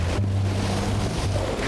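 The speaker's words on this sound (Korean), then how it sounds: "서쪽에서 강하게 불어오는 바람 탓에 파도가 제법 거친 편이다." A strong west wind roars across rough sea around a small fishing boat off Jeju's Daegwantal Island, giving a dense, steady, close rush of wind buffeting and churning waves with a low engine hum beneath.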